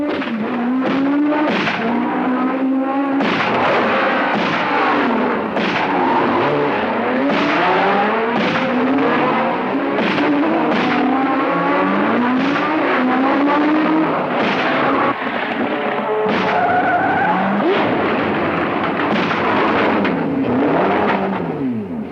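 Racing cars roar continuously, engines revving and climbing through gears with overlapping passes, loud and close throughout.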